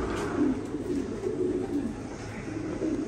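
Pigeons coo in a ventilated loft with wooden floor mats in Chittagong, a steady chorus of low, rolling throaty calls blending close together over a constant background hum, with no talk.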